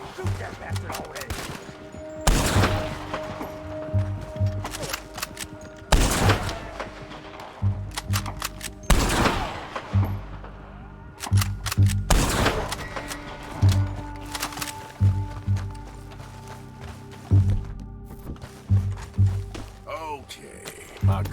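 Bursts of gunfire in the Western video game Red Dead Redemption 2, with repeated loud shots and volleys spread across the scene, some overlapping, mixed with game sounds and voices.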